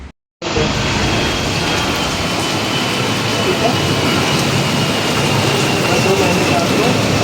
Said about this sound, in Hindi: ऐसा सोचे नहीं थे कि बाहर इतना ज़बरदस्त बारिश होगा